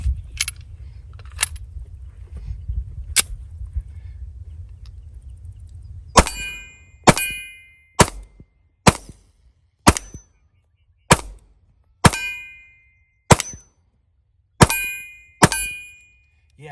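SCCY CPX-3 .380 ACP pistol fires about eleven sharp single shots at an uneven, unhurried pace, each a loud close crack with a short ring-out, after several seconds of low rumbling background noise.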